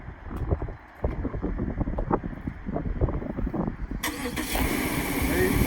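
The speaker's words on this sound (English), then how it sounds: "It's going to blink the parking lights, start the vehicle, and show you steady green that it's working." A car engine cranks and catches when triggered by a Viper remote start system, settling into a steady idle outdoors amid wind buffeting on the microphone, with a voice talking over it.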